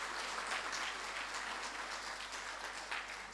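Audience applause for the wife of Moratinos at the opening session of a youth summit, a steady wash of clapping from a crowd that holds for the whole stretch without fading.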